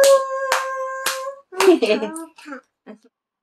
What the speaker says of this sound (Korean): 잘했어요. 박수.